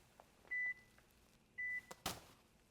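A Mammut Barryvox avalanche beacon sounds two short, thin electronic beeps about a second apart during a group check, followed by a soft click in an otherwise quiet setting.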